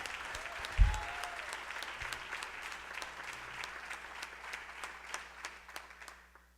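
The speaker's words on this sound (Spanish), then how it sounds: "vamos a regalarle otra ofrenda de palmas al Dios de la gloria" A church congregation bursts into applause, a steady wash of many hands clapping with a few sharper rhythmic claps standing out, tapering off at the end.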